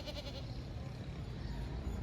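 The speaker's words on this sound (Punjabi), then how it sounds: "ਲਓ ਜੀ ਆ ਬੱਕਰਾ ਜੀ ਬਾਹਰ ਨਿਕਲ ਗਿਆ ਸੀਗਾ" A buck goat bleats briefly at the start on a farm holding cows and buffaloes, a short wavering cry over steady, noisy outdoor background.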